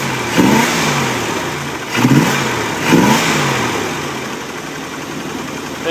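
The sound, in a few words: 1975 Dodge motor home engine running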